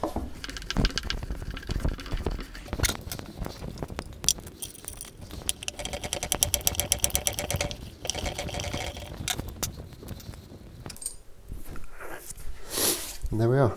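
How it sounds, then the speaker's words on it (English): A guitar pickup bushing is wound out by hand, giving close, faint scraping, ticking and rubbing sounds in an irregular rhythm, with a person talking over part of it. "And just wind the bushing out."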